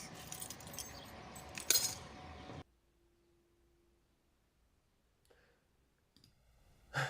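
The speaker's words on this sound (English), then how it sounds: "That was Ali throwing some keys around with a litter picker today." Metal keys tossed and jangled with a litter picker make a dense burst of bright clinking and rattling for about two and a half seconds, with a sharp spike near the middle. Near-silence follows, broken by a few faint clicks and a final short rattle.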